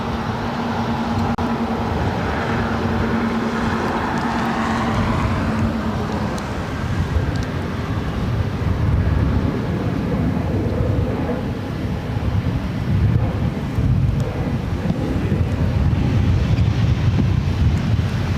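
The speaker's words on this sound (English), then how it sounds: "This is Air Canada 557 taking off to Vancouver on a MAX 8." Air Canada Boeing 737 MAX 8 departing LAX for Vancouver, a steady, loud broadband jet roar with a low engine tone in the first seconds, blended with heavy wind buffeting on the microphone throughout.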